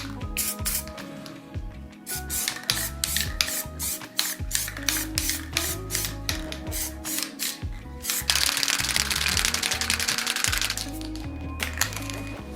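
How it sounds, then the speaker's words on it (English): A steady hiss of aerosol primer spray runs through the clip, broken by short bursts and clicks, with a longer continuous spray near the end. "And spray."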